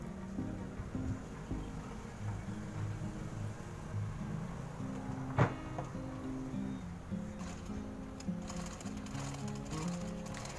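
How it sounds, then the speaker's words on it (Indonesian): A sewing machine runs steadily, stitching across the top of a zipper to replace a broken one, its needle chattering in an even mechanical rhythm near and clear, with a brief louder clack partway through. "Setelah itu kita jahit di bagian atasnya."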